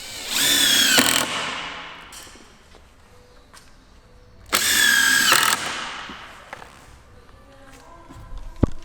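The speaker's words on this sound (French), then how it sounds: "on vient visser au centre" A power drill drives a screw into the centre while a garden studio is assembled, two loud whirring bursts of about a second each separated by quieter clicks and handling noises.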